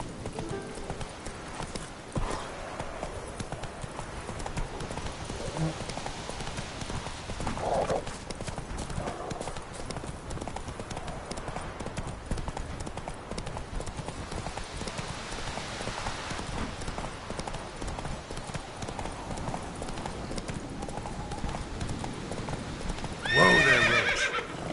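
Roach the horse in The Witcher 3 video game gallops with steady clip-clop hoofbeats throughout, and a loud whinny bursts out near the end, with faint voice underneath.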